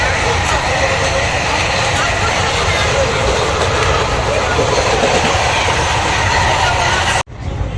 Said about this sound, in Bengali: এখনো ট্রেনের জার্নি চলছে।